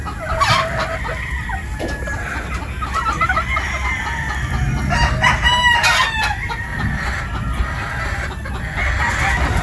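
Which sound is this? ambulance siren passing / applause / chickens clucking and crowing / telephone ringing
chickens clucking and crowing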